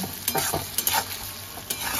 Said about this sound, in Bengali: হালকা লাল করে পেঁয়াজটা ভেজে নেব।